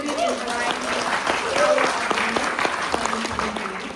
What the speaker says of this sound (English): Let's give one more round of applause for Yang.